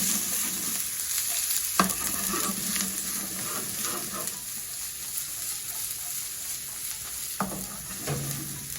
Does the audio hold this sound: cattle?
no